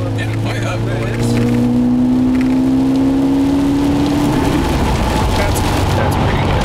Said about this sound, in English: We're just gonna rev it out here